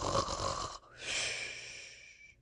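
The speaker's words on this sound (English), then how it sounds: "listened attentively to the snores. They were very loud indeed, but seemed quite natural" Loud, close snoring in a story about a badger and a fox: a rasping inhaled snore, a brief gap, then a long, whistling, breathy snore that slowly fades.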